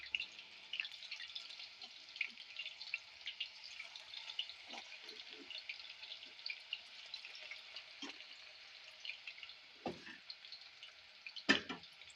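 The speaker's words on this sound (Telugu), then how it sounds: "ఇప్పుడు ఇది మనం ఉడకబెట్టుకొని పక్కన పెట్టుకున్న ఆలు అయితే ఇందులో వేసేస్తున్నాం" Boiled potatoes frying in hot oil make a steady, faint, hissing crackle that carries through the whole clip, with a few soft thuds and clinks from the pan, no voices.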